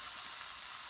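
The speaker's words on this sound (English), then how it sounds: "It makes kind of a funny noise too, like a sizzle." A portobello mushroom steak sizzles in a pan, a soft, steady hiss of frying that stays even and faint for about a second with no voices.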